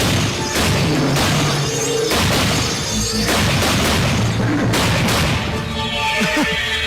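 Gunfire in an action scene from an Indonesian fantasy TV film, heard as a rapid series of loud, sharp bangs and booms that repeat in quick bursts, mixed with shouting voices.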